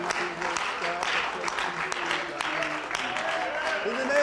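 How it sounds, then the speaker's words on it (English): Church congregation clapping hands together during worship, a steady dense patter of many hands over sustained singing or music with voices mixed in. "Why don't we just clap our hands to the Lord?"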